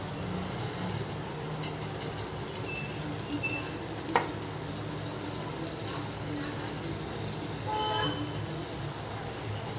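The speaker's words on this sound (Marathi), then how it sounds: "तर आता आपण त्यात शेवटी हे पनीर आहे किसलेलं ते टाकून घेऊया" Grated paneer drops into an oily vegetable mix in a pan for paneer bhurji, giving a steady moderate sizzle with a sharp tap from a utensil partway through and light stirring.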